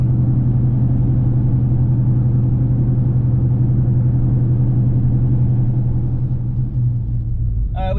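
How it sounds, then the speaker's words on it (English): Inside the cab of a Roush F-150 with a cat delete and six-speed automatic in fifth gear, a steady low engine drone and road rumble hold constant while cruising at 40 mph. "Now this is inside of the vehicle. We are just cruising at 40 miles an hour."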